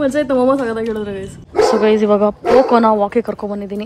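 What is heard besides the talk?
dog barking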